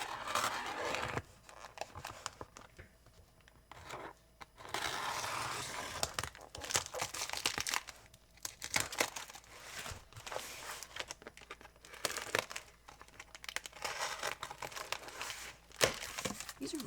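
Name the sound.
cutting open cardboard-wrapped package with sharp scissors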